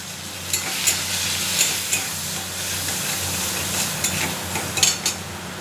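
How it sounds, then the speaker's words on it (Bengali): Fish curry with tomato, cumin and chili powder being stirred in a frying pan: a steady loud sizzle throughout, with occasional scraping clinks of the spoon against the pan. "এবার নাড়বো।"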